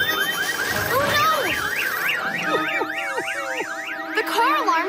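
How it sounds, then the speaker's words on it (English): Several car alarms wail and warble at once, overlapping electronic siren patterns cycling rapidly and loudly without pause. "The car alarms are confusing Botasaur!"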